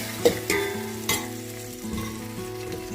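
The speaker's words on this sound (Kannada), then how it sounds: "ಈಗ ಚೆನ್ನಾಗಿ ಟೊಮೆಟೊ ಎಲ್ಲ ಚೆನ್ನಾಗಿ ರೋಸ್ಟ್ ಮಾಡ್ಕೊಳ್ಳಿ" Sliced tomatoes frying in a hot pan for vegetable biryani, a close steady sizzle broken by a few sharp stirring clacks early on, with no talk.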